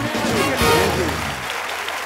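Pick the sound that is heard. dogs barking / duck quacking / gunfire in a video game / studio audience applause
studio audience applause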